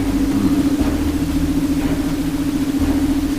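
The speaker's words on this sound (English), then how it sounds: "Thunder." A low, steady thunder rumble sounds in the space game Star Trek Online, a dull continuous roar with a constant droning hum beneath it, loud and unbroken for several seconds.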